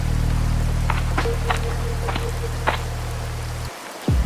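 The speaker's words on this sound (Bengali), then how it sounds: "এখন এত রাতে এই বৃষ্টির মধ্যে আমি রিক্সা খুঁজতে যাব কোথায়?" Steady rain falls at night in a rural village setting of a Bengali horror cartoon, a constant close hiss with scattered droplet ticks that cuts off abruptly near the end.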